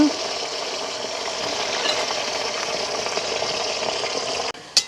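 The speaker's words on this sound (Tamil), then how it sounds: "இப்போ பார்த்திங்கன்னா உருளைக்கிழங்கும் வந்து நல்லாவே பொரிஞ்சிட்டுது எங்களுக்கு." Potato pieces deep-frying in hot oil during outdoor village vegetable cooking, a steady close broadband sizzle that holds evenly for several seconds before a brief break and a short burst at the end.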